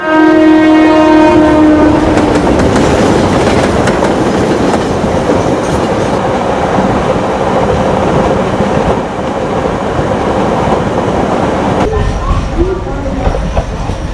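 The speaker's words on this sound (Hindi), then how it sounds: "पटना जाने वाली Tripura Sundari express platform number 2 पर आ रही है" Tripura Sundari Express bound for Patna pulling into platform 2, a loud horn blast at the start followed by heavy rolling rumble and clickety-clack of carriages close by, with voices faintly underneath.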